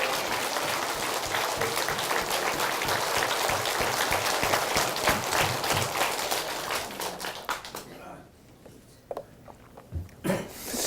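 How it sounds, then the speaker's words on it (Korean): Church congregation applauding loudly and densely for several seconds, then thinning into a few scattered claps toward the end. "이 좋으신 하나님께 영광과 박수 올리겠습니다."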